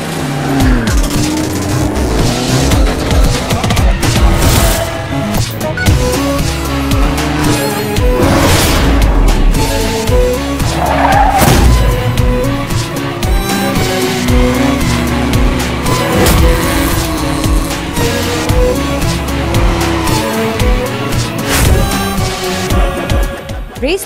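Racing cars from the mobile game Race to the Game screech and skid continuously under loud, busy engine roar, with booming impacts and dense layered effects throughout.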